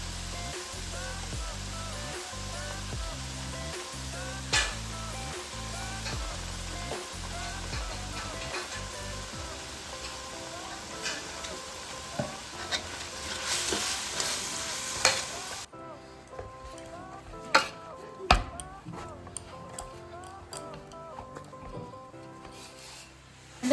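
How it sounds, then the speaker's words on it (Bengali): Spice masala with turmeric and salt frying in a pan for chicken kassa, a continuous sizzle with rhythmic stirring strokes early on and scattered spoon knocks later. "এর মধ্যে একটুখানি হলুদ আর নুন দিয়ে মশলাটাকে কষাবো।"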